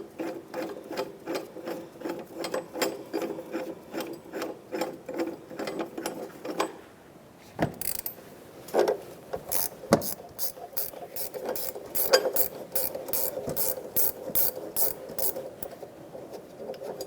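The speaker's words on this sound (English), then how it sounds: "So now we're going to loosen these bolts up" Repeated ratcheting on harmonic balancer bolts of a 2005-2010 Chevrolet Cobalt, a fast clicking run with a short pause, then a few separate bursts of ratchet clicks, close and moderately loud.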